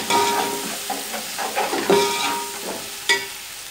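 Onions and spices sizzle in hot oil in a pan for murgh pulao, a steady frying hiss broken by a few scrapes and stirring clatters.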